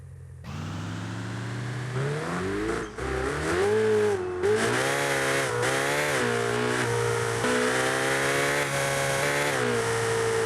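A Ferrari supercar engine revs loudly and continuously, its pitch climbing and dropping through several swells with a brief dip near three seconds, close and dominant with no talking.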